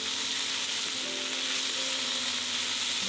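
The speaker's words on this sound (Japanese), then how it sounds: "でもこれも強火ですね。 さっと香ばしく炒める感じです。" Shrimp stir-frying in a pan over high heat, a steady loud sizzle that runs unbroken throughout with no voices.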